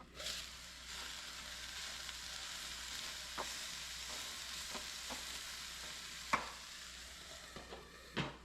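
Frozen garlic and parsley mix sizzling steadily in a frying pan. The hiss is continuous, close and moderately loud, and a few sharp pops and stirring clicks cut through it.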